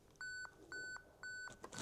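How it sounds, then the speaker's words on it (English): Camera self-timer beeping: three evenly spaced, clear electronic tones, each about a quarter second long, fairly faint and close, with no talking over them. "I've still got my self-timer on."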